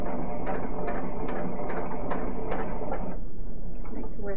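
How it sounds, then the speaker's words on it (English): A domestic sewing machine stitching along a fabric seam allowance toward a chalk mark, running in quick rhythmic mechanical pulses for about three seconds before stopping, close and fairly loud, with no talking. "I'm just going to sew right in the middle of the seam allowance"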